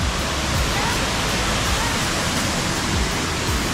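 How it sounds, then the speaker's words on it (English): A waterfall in the Philippines pours with a dense, steady broadband rush, loud and close, with no pauses or talking. "How do you like the waterfall?"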